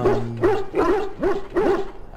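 A dog in the fantasy RPG Dragon Age Origins gives a run of four short, close barks with a whimpering, yelping edge, evenly spaced over about two seconds, with no talk.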